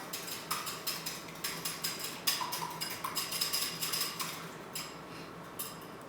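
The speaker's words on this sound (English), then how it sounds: "You're going to take your whisk and just whisk up your egg." A whisk beating eggs quickly against a bowl, light rapid clinking in bursts, fairly quiet and close.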